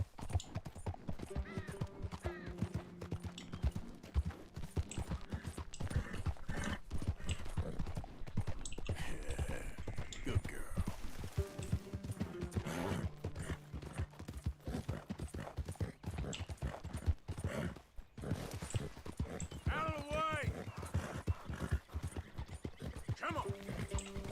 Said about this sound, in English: That's a nice looking horse you have there.